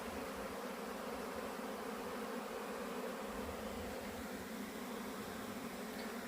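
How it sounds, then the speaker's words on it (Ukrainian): Dense, steady drone of many honeybees buzzing together close by at water during a drought, a continuous hum with no pauses and no voices. "Бджолки працюють, слава Богу."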